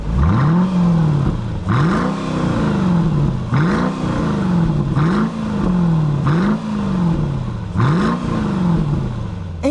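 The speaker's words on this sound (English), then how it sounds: "This is an NA V8 and you can hear it." A naturally aspirated Mercedes-Benz SLK55 AMG V8 revs repeatedly, each rise in pitch followed by a drop, roughly every second and a half, loud and close, with no talking.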